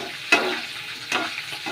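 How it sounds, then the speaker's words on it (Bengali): Sliced onions, capsicum and garlic fry in a pan over low heat. Two distinct stirring scrapes land about a second apart over a quiet, steady sizzle, with no voices. "এটা একটু নাড়াই মাঝে মাঝে"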